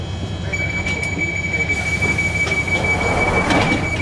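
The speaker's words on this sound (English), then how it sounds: "This train terminates at Edgware via Bank." A London Underground train pulls into a platform with a loud, steady rumble, a high drawn-out wheel squeal running through it and brief screeches layered over the top, alongside an automated platform announcement.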